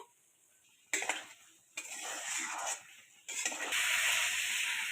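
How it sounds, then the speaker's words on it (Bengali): Fried potatoes being sautéed with a spice mixture in a pan, with bursts of loud sizzling that cut in and out between quiet stretches, then a sustained hiss of frying. "আলুটা আগে দিলাম কিছু সময় কষিয়ে নেব আলুটা সবজি মশলার সাথে"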